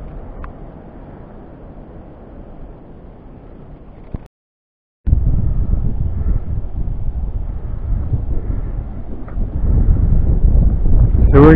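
Steady wind buffets the microphone in a low roar that cuts out for a moment, then returns stronger and gustier.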